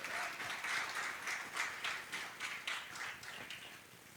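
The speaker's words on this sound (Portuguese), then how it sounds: "Você pode aplaudir o Senhor?" A church congregation applauds, heard as a soft, distant, even wash of clapping that carries on for several seconds.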